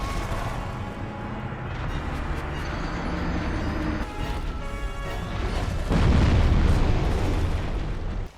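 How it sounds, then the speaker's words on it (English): Magic explosions go off in a Dark Souls boss fight, a dense wash of booming blasts and crackling bursts that swells louder toward the end, with no talking. "but with magic explosions."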